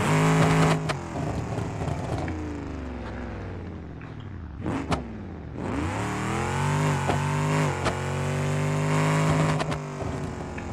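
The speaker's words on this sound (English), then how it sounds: "Alright, start the engine." A heavy custom vehicle's engine in a video game starts and runs, a steady mid-pitched drone with rising and falling revs, briefly dipping before picking up again, loud and close with no talk.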